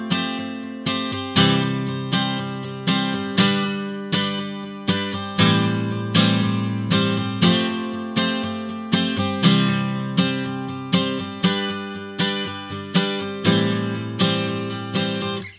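Acoustic guitar strums the chorus of a song in a steady, even rhythm, each chord ringing out full and close with no voice over it.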